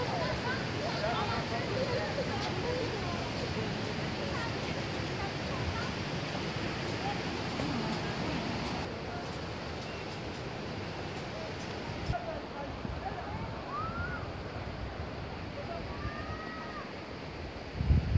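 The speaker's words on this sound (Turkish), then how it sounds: "Gümüşhane'nin Tomara Şelalesi." Tomara Waterfall near Kelkit in Gümüşhane, a mountain cascade heard as a continuous roaring wash of falling water, steady and enveloping, with faint bird calls and occasional handling bumps.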